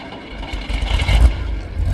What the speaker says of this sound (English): The engine didn't sound like it was in the best of conditions, but it did work